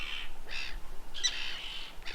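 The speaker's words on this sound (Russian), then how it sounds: "Здесь обитают только чайки, вон они орут." Seagulls on a small uninhabited island give several harsh screeching calls at moderate distance, spaced bursts over a quiet outdoor background with no talking.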